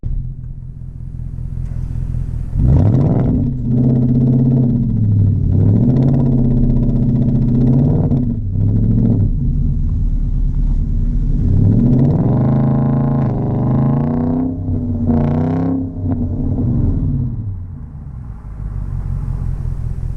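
Audi S5 4.2 V8 with the exhaust back boxes removed, running straight out the back: a loud, deep rumbling idle broken by several rising and falling revs, close and with no talk.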